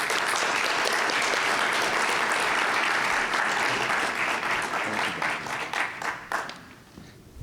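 Sustained applause from a morning conference audience welcoming Brian Kennedy to the stage at a foreign policy event, a dense steady clapping that fades out toward the end.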